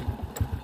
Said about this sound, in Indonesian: Kita coba menggunakan kick starter dulu.